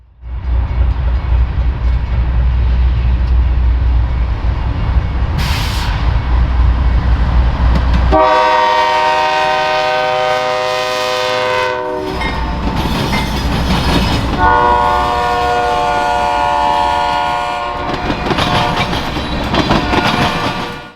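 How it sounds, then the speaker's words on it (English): CSX freight train B201 passes the Deshler, Ohio junction on a cloudy winter morning: a loud, close horn blast sounds in several long held tones, with rumble and rolling wheel noise before and after. "Our first train of the day came at 8:04 a.m. under cloudy skies in the form of a B201."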